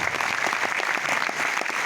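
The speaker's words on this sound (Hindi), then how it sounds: "एक बार ताली बजाइए" An audience at a poetry recital breaks into steady, dense applause, many hands clapping continuously and fairly close for the whole stretch.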